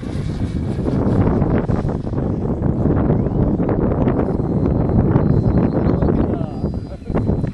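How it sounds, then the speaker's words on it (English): Steady gusting wind roars against the microphone with a broad, constant rumble, and voices sound faintly beneath it throughout. "it's windy."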